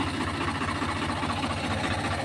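A Swaraj tractor engine idles steadily nearby, a continuous low rumbling drone with even mechanical vibration and no breaks or revving.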